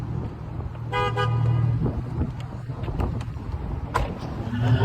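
A car horn gives a couple of short toots close by, cutting through the steady low rumble of a running car.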